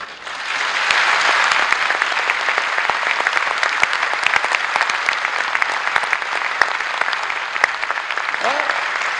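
A hall audience breaks into steady, brisk applause during a leader's 1989 speech on capitalism, the clapping swelling quickly and holding at a dense, even level with a voice briefly heard near the end.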